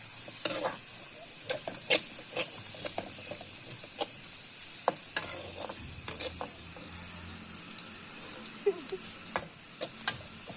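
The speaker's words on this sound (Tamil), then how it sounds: "வெங்காயத்தை நல்லா வதக்கிடுவோம்." Onions sizzle and fry in a pan while being stirred for a wedding-style meat curry, with frequent close scraping and clicking strokes over a soft steady sizzle, no voices.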